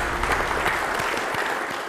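Steady applause from diners at a restaurant test meal, a dense wash of clapping hands filling the room evenly and fairly loud, with no voices standing out.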